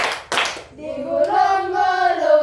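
A couple of sharp hand claps right at the start, then a voice begins singing a sustained melody.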